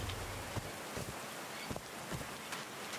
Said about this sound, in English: These drops of rain are so refreshing.